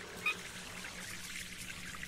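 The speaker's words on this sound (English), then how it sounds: "She can go down here and collect water." Water is collected in the game Sheltered, heard as a faint steady trickling pour with a brief small click at the start.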